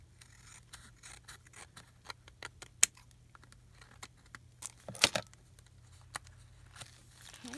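Scissors snip through cereal box cardboard in a quiet room, a run of short, crisp cuts at an uneven pace with a louder crunch near the end, no talking.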